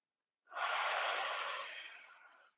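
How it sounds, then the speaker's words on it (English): One long, deep exhaled breath during a neck stretch, a soft airy rush rising quickly and fading away over about two seconds against otherwise quiet surroundings. "Nice deep breathing here."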